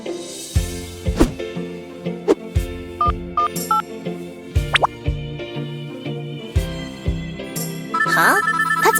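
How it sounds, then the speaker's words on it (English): A cartoon phone's ringtone rings out in a summer tornado adventure, a bright repeating electronic melody over a steady musical backing, with drip-like plops and short tonal beeps along the way and no speech. "That's my phone ringing."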